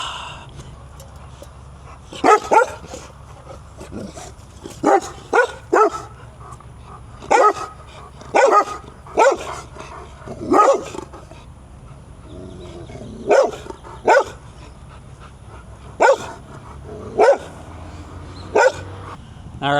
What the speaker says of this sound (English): so the dogs were barking.